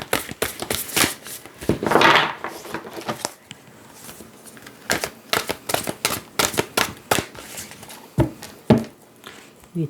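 Oracle cards are shuffled and cut by hand, giving rapid, close riffling flicks and snaps in uneven bursts with a louder flurry early on.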